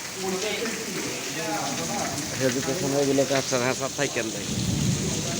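Afternoon rain falls steadily at an outdoor training venue, a broad hiss of drops heard under nearby voices as people talk and wait for it to ease.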